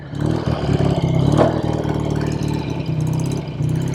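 A 1968 BSA Thunderbolt 650 motorcycle engine runs just after a kick start, with a steady close-up idle that blips briefly and then settles into an even, throbbing beat.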